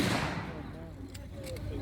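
Gunfire at an outdoor 1940s WW2 reenactment battle at Quex Park, a dense spread of shots and bangs at a distance, continuous through the moment and mixed with background voices.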